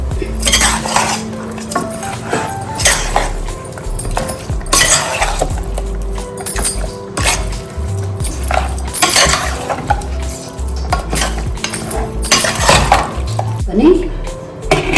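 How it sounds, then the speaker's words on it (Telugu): Metal utensils scrape and clink against a pressure cooker in an uneven rhythm while stirring salt, coriander powder and biryani masala into mutton, with occasional louder knocks, close by. "ధనియాల పౌడరు, బిర్యానీ మసాలా వేసి బాగా కలుపుకోవాలి"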